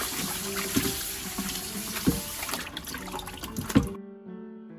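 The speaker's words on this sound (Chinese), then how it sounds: "把它冲洗干净。" Tap water running over purslane in a sink as the leaves are rinsed, a steady splashing flow with a few louder splashes, close and fairly quiet, before the faucet shuts off and only a faint hum remains.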